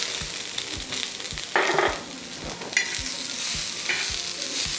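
Corn kernels and carrots are sautéed with garlic in a pan, a low sizzle under repeated scraping stirs in a steady rhythm, with a few louder bursts of frying hiss.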